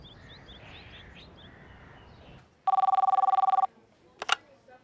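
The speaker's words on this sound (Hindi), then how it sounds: "फोन बज रहा था लेकिन अब बंद हो चुका है" A telephone rings once in a single loud, close burst of fast trilling bell, then stops, heard after a stretch of quiet outdoor ambience with faint bird chirps.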